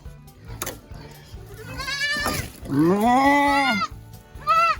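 Goats bleat loudly nearby, a couple of wavering cries rising and falling, with soft rustling and background noise between them.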